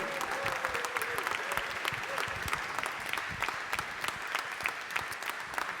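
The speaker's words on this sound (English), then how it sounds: "let's give them a round of applause" Audience applause before a live conversation event, a dense, steady round of clapping from a seated crowd lasting several seconds, with scattered louder claps and a faint voice early on.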